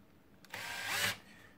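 A Bosch GSR 12V-15 FC cordless drill driver driving a screw, one short whirring burst that rises and stops abruptly, close and alone in a quiet room.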